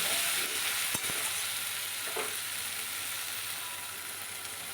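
Ripe red tomato sizzles in hot oil in a pan for a pomfret fish curry, a steady broadband frying hiss with a couple of brief clicks from stirring, fairly close and continuous.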